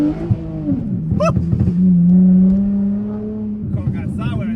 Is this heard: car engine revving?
yes